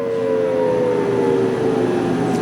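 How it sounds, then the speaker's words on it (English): Air raid sirens wail over Kuwait City during a missile alert, a steady sustained tone droning loud and continuous through the whole stretch with no voices over it. "In Kuwait City, I believe we're hearing some sirens coming in, and Don Teague is there."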